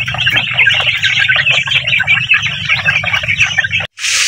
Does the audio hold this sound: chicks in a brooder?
yes